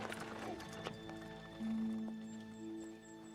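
A horse's hooves clip-clop on hard ground, a few quick strikes close by, with a long whinny-like tone and faint background sounds and no clear talk.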